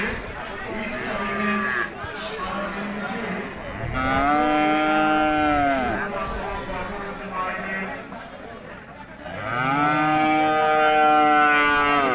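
Cattle at a busy livestock market low in long, drawn-out moos, several loud calls rising and falling across the stretch, with chatter and a crier announcing prices over a loudspeaker in the background.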